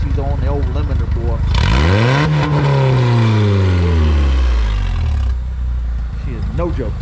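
A Honda buggy engine with no muffler, exhaust in race mode, revs hard up to the limiter and holds there, then drops back; loud and close with raw, rasping exhaust tones and a sharp rise and fall in pitch.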